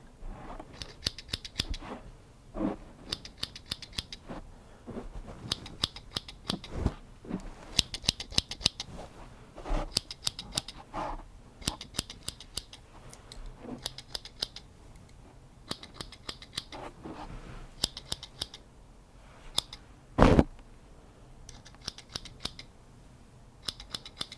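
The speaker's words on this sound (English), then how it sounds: "the scissors, they make a bit of a nice sound, sort of a haircut sound" Scissors snip in quick repeated bursts, crisp metallic cuts coming in rhythmic clusters, close and clear with brief pauses between runs.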